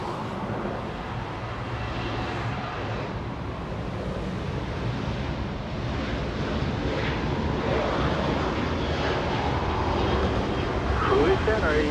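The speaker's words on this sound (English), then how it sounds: "After the departure, we'll get the last few seconds of JetBlue's touchdown" JetBlue airliner touching down at Los Angeles International Airport, a distant jet rumble mixed with wind that grows slightly louder toward the end, with talk faintly underneath.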